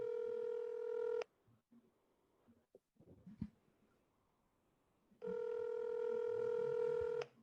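A telephone ringback tone sounds in two long, loud bursts separated by about four seconds of near silence with faint handling noise, heard through a phone line.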